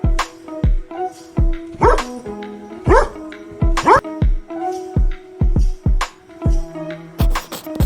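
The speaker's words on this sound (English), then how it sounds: "D for dog." A dog barks and yips in a few sharp bursts spaced about a second apart, loud and close, over a steady rhythmic musical backing.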